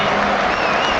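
A large crowd claps and murmurs throughout at St James's Park during Newcastle United versus Bromley in the FA Cup, a dense, steady wash of stadium applause.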